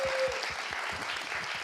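Studio audience applause on a Korean talk show, a dense steady wash of clapping throughout with no talk over it.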